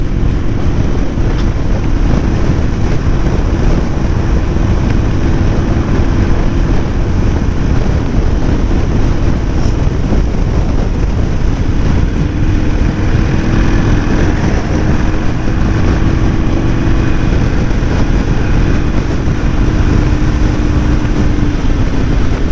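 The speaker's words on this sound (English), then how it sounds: "the wind has really picked up again" Strong autumn wind blows outdoors as a loud, continuous roar, buffeting the microphone with heavy low rumble for the whole stretch and without letting up.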